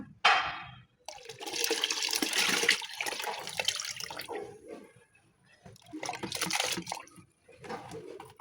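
Banana-soaked water is poured into rice and dal rinse water for a homemade plant fertilizer, giving two separate bursts of splashing, gurgling liquid close by with quiet gaps around them.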